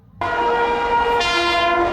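A train horn blasts loud and sustained at Kolkata station's platform 3, a long rich blare that starts abruptly and swells brighter partway through, sounding close with no voices.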